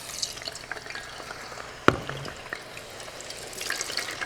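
Burger ingredients are lowered in small batches into hot oil, giving a moderate bubbling sizzle with one sharp clack near the middle.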